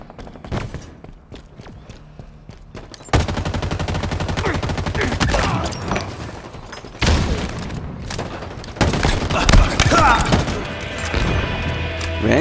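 Rapid gunfire bursts from the video game Halo Infinite, sustained automatic fire with booming impacts and crashes in several loud stretches, separated by quieter gaps.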